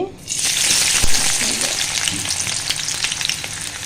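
Chopped onion hits hot oil with a sudden loud burst of sizzling, then keeps frying in a steady, crackling hiss close by.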